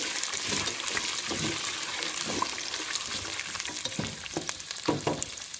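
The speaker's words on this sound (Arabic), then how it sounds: "حمص اللوز. اريد اللوز ياخذ لون شويه حلو" Almonds fry in a little oil in a cooking pot, giving a continuous close sizzle with scattered crackles and pops while they are stirred.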